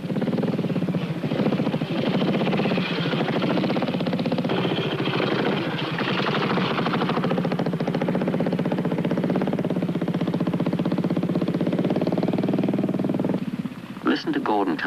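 A trials motorcycle climbs a section under rider Gordon Jackson, its engine a steady, fairly loud drone with small throttle changes, running near-continuously before cutting off at the end; someone talks over it.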